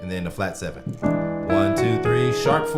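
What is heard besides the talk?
No everyday noise stands out behind the speech.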